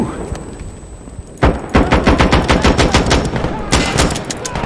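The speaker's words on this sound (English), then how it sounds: "the gun sounds and the grenade explosions are awesome" Rapid automatic gunfire in the shooter game Insurgency Sandstorm: sparse shots at first, then a dense, loud stream of close bursts with sharp cracks repeating steadily to the end.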